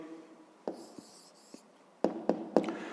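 Pen writing out the answer to a fifth-grade math exercise on paper: soft scratching strokes with a few sharper taps, then a quick cluster of three firm pen marks near the end, close and quiet, with no talking.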